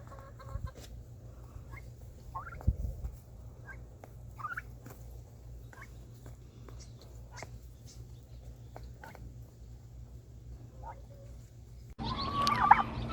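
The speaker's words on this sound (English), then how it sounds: "these are meat turkeys" Meat turkeys in an enclosure give soft, scattered calls and short gobbling sounds over a low steady hum, and a louder, busier burst of noise comes in near the end.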